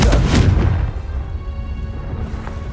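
A Confringo explosive spell blast in Hogwarts Legacy, a loud booming burst up front that quickly decays into a rumbling tail, with a smaller thump near the end.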